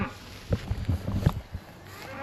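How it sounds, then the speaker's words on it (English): Cattle low near a beehive site in the countryside, with one drawn-out moo from a nearby cow rising and fading across a couple of seconds over faint outdoor background. "Cows are trying to jump in on the video on this one, a little bit noisy."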